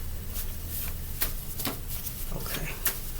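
Tarot cards being shuffled by hand in a quiet room, with soft riffling and several sharp slaps and taps as the deck is worked, close to the listener.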